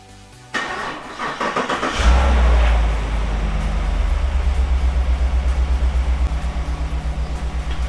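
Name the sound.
Chevrolet Silverado truck engine cranking and starting on weak battery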